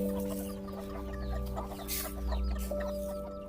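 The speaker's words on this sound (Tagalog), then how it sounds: "At ito na ang mga manok ko." Several chickens cluck continuously nearby over a steady low mechanical hum.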